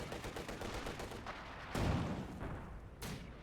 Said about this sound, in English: it's the duel of the MGs